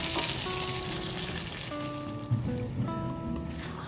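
Ridge gourd and potato pieces fry with a freshly ground spice paste in a pan for a malaikari curry, giving a steady close sizzle with a few soft scrapes and knocks, and no one talking.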